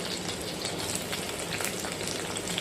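Finely chopped garlic and onion fry in a pan for a tempered curd dish, a soft, continuous crackling sizzle heard close up and alone.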